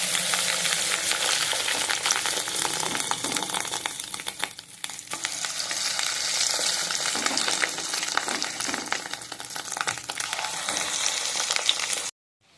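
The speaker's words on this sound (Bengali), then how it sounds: "তেলটা গরম হয়ে গেছে, এবার ডিমটা দিয়ে আমি বড়া করে নিচ্ছি।" Fish egg and potato fritters fry in hot oil with a constant, crackling sizzle nearby, dipping briefly midway and cutting off sharply at the end.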